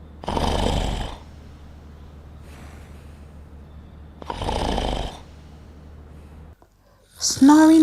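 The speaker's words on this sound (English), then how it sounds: "Snoring is a phenomenon that is easily found in our society." A person snoring in two loud, rasping inhalations about four seconds apart, with quieter breathing between them, followed by a brief silence and the start of a voice.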